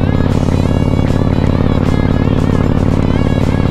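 A Harley-Davidson motorcycle towing a trailer of about 120 kilos labors up a hill, its loud engine drone steady and close with a deep rumbling pulse and wind roar, and no talking.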